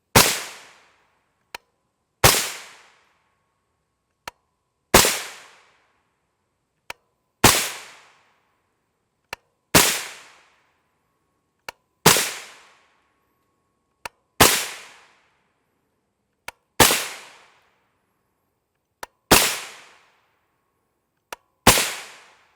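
Suppressed 300 Blackout rifle with a 10.5 inch barrel and a Yankee Hill R9 suppressor firing 115gr Sierra JHP rounds: nine sharp, close reports with quick decays, spaced about two and a half seconds apart, each preceded by a faint click.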